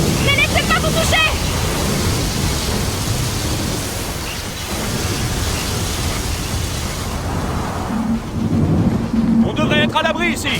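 A thunder and lightning storm in Gears of War 4 rumbles and roars as a dense, loud wash of storm noise that swells and crackles, with excited voices talking over it.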